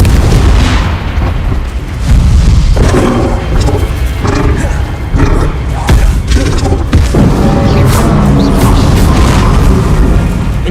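Confringo blasting-spell explosions in Hogwarts Legacy: a loud, continuous barrage of deep booms and thuds, dense and overlapping, with roaring bursts and brief vocal shouts mixed into the chaos.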